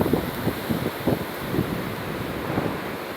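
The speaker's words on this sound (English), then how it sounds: "I'm just on a rant out here because, see, the wind, it makes me crazy." Strong wind blowing outdoors, roaring and buffeting against the microphone in loud gusts that rise and fall throughout, with no voices heard.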